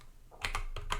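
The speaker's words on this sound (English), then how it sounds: "I'm going to type the same password" A password is typed on a computer keyboard, a handful of quick, crisp key clicks heard close and alone.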